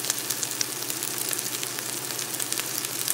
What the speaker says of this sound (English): Sauteing the onion first and let it soften is always good.